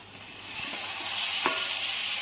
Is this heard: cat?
no